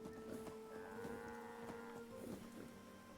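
A two-headed Brahmin cow moos in Fallout 76, a long drawn-out lowing call with clear harmonic tones held for about two seconds, fairly close, over low ambient game background.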